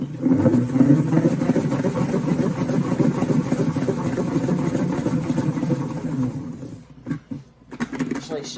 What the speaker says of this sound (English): Just put your salad in there, put the lid on, spin it.